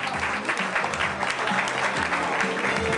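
A crowd at a Miss Carnival pageant in Ceggia applauds a contestant with loud, dense clapping that holds steady throughout, while low murmuring voices run underneath.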